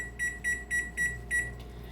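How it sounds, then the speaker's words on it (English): Kitchen timer for a Parmesan risotto beeping in five short, evenly spaced electronic bursts, close and clear, with no talking. "So I'm actually setting a 25-minute timer."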